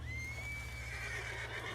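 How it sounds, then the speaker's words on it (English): A horse in a game neighs once in a long, high whinny that holds and wavers over a low steady hum, faint and alone with no speech. "What's got this horse spook, huh?"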